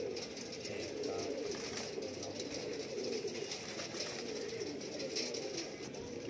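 Teddy pigeons coo softly in a low, continuous murmur, with a faint background hum.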